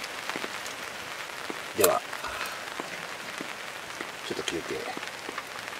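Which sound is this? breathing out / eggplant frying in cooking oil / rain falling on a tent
rain falling on a tent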